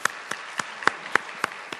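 A short round of scattered hand claps during a church prayer service, a few sharp distinct claps spaced unevenly rather than a full crowd ovation.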